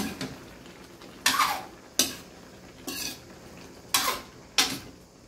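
A utensil clanks and scrapes against a pot of boiling Ilocano buridibod in five distinct, evenly spaced stirring strokes, fairly close, in an otherwise quiet room.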